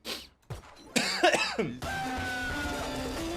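A couple of rough coughs and throat noises up close, followed by a steady background hum.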